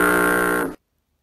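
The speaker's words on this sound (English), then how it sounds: "a low note is like a foghorn" A harmonica plays one sustained low, reedy note, steady and fairly loud, likened to a foghorn, before cutting off abruptly into silence.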